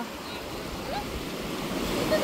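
Sea waves washing in at St. Mary's Island, a steady rushing surf with wind buffeting the microphone, fairly close and continuous, with no clear talk.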